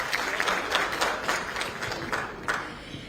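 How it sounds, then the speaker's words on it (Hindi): A stage audience at an interview with Acharya Pramod Krishnam claps to welcome him, a steady sustained applause with dense overlapping hand claps throughout, moderately loud and fairly close. "जरा जोरदार तालियों से स्वागत करें आचार्य जी का"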